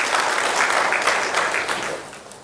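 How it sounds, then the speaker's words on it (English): Delegates at the IESA AI Summit 2023 applaud to welcome a speaker, a dense burst of clapping from a crowd that holds steady and then tapers off toward the end. "Please give a round of applause to Mr. Srinivasachari and welcome him to address delegates."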